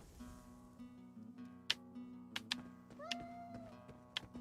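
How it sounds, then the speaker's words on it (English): A cat meows in the video game Elder Scrolls Online, several short distinct meows and one drawn-out mew, clear against quiet ambient game music. "Most definitely cat."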